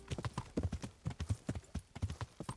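Horse hooves clip-clop in a steady, rhythmic gait in the video game Kingdom Come: Deliverance, the loud, close footfalls sounding in even repeated beats with no talk over them.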